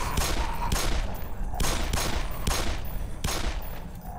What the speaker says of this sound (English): Glock shot.